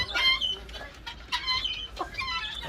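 Hens on a farm clucking in a coop, several short repeated clucks and squawks at close range, irregular and moderately loud over a low background hum.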